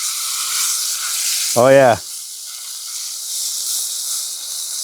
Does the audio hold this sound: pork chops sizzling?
yes